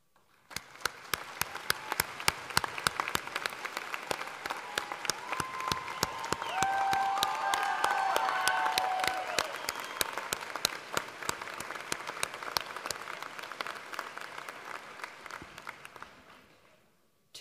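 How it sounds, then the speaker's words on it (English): A commencement audience applauds college faculty and staff in a long, steady round of clapping that swells in the middle and fades out at the end, with a faint murmur of the crowd beneath. "I would invite all faculty and staff to stand and receive a round of applause"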